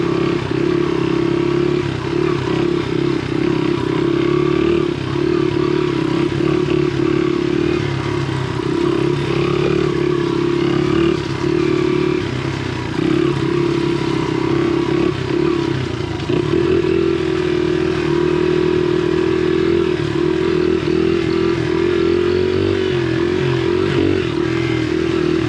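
A Honda XR70 trail motorcycle ridden along a dry dirt trail, its small engine droning loudly and continuously with shifting revs and occasional clatter, close to the microphone throughout.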